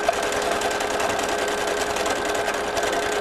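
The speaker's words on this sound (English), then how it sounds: "So now I'm stitching the inside of the star with this rosy pink." A sewing machine stitches a star outline in rosy pink thread, running as a steady, close, even mechanical whir and rapid needle clatter throughout, with no talking.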